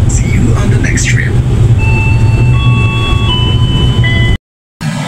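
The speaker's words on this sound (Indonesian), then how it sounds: "perjalanan kereta api Progo saat ini tiba di stasiun Purwokerto awal 2 menit" The Progo passenger train rumbles steadily as it pulls into Purwokerto station in Indonesia, heard from inside the carriage, with faint tonal whines over the rolling noise before a brief cut.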